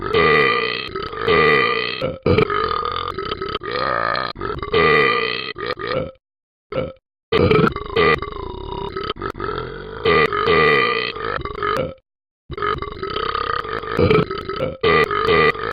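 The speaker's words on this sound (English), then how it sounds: "I like to burp a lot." Long, loud, drawn-out burps from a person, several in a row with brief silent gaps between them, close to the microphone and with no talk.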